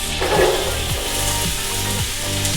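Diced yellow onions, two large ones, dropped into melted butter in a pot on the stove, giving a steady close sizzle with soft scraping stirs repeating about every half second.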